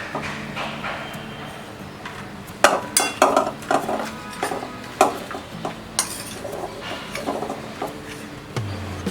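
A spoon mixes rice flour and gram flour batter for onion pakoras in a bowl, giving a series of irregular clinks and scrapes that start a few seconds in and repeat at an uneven pace.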